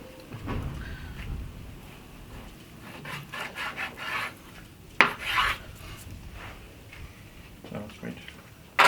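A knife saws through pork on a cutting board, cutting 1 to 1.5 centimetre thick slices for Schichtfleisch. Irregular rasping strokes come close and moderately loud, with a few sharper scrapes between quieter stretches.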